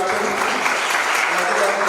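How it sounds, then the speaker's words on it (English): An audience at a district youth parliament event at GITAM in Vizag bursts into dense, continuous applause, loud and close, sustained evenly for about two seconds with a murmur of voices mixed in. "round of applause to the first participant."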